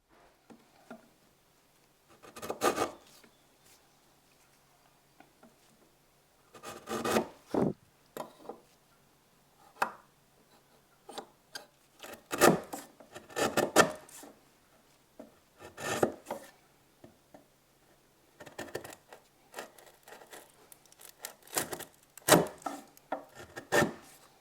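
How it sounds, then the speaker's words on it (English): Narrow chisel paring wood by hand while cutting leg vice joinery at a workbench, heard as separate bursts of scraping, shaving strokes spaced a few seconds apart with quiet pauses between, close and fairly soft. "Here I'm using a narrower chisel just to create a square reference"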